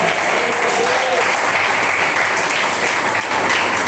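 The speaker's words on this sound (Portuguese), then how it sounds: "Quem bate palmas e dá glória a Jesus." A church congregation claps for Jesus during a sermon, steady dense clapping from many people in a large room that holds evenly throughout, with faint voices underneath.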